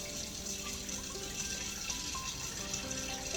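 Water runs steadily from a kitchen tap into a container, a continuous, fairly close gushing hiss that lasts throughout with no talking.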